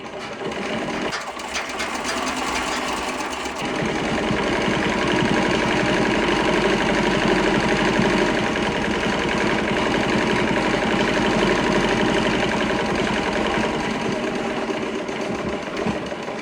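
A Singer 15-88 treadle sewing machine set in a custom commercial table runs steadily, a fast, even mechanical whir and clatter that starts after a brief pause and continues alone, fairly close.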